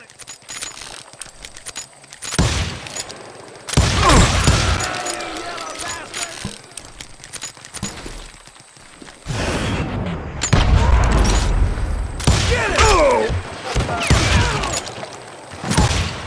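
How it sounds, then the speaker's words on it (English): Gunfire in the video game Call of Juarez Gunslinger, a Western shooter, with repeated loud shots and bursts during a pitched battle among rocks, mixed with other game effects and clatter. "I just kept shooting at anything I could see up in those damn rocks"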